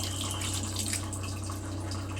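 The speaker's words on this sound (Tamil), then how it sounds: "கொஞ்சம் திக்காக இருக்கிறதுனால 1 கிளாஸ் தண்ணி சேர்த்துக்கிறேன்." A glass of water is poured into a thick tamarind kara kuzhambu curry with yam, a brief continuous splashing stream over a low steady kitchen hum.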